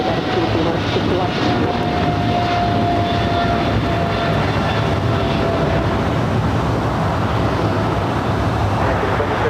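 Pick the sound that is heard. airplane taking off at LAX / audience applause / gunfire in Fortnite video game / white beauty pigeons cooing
airplane taking off at LAX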